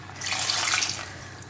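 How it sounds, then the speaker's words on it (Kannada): Water is poured into a ridge gourd (heerekayi) curry in a pan, a short close splashing pour that rises quickly and tapers off within about a second, with no voices. "ಸೊ ಇದಕ್ಕೆ ಸ್ವಲ್ಪ ನೀರು ಹಾಕ್ತೀನಿ."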